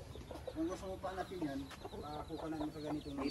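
Chickens cluck and chatter in short repeated bursts while eating rice grain, over a busy farmyard background, with a voice talking faintly underneath.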